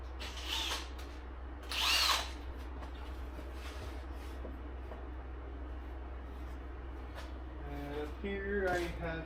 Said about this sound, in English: I got a drill with some wire